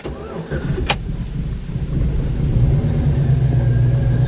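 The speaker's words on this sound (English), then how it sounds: "Start the truck up." A 2007 Chevy Silverado pickup's engine cranks with a sharp click, then catches and settles into a low, steady rumbling idle, close by and loud, with no talking.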